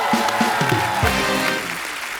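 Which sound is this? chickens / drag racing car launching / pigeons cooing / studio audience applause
studio audience applause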